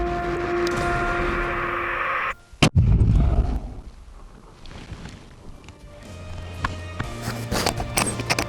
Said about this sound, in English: I'm just gonna fire at 700.